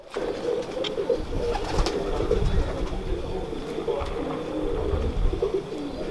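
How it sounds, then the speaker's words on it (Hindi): Pigeons coo softly in low, repeated throaty calls, with bird chatter and background rumble around them. "आपने असगर शाह साहब के कबूतरों का शौक़ भी किया"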